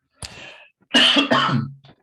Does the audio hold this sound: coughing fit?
yes